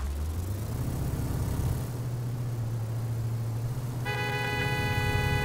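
Taxi car engine in Taxi Life Simulator, a low steady hum that rises slightly in pitch, with a bright electronic tone cutting in near the end.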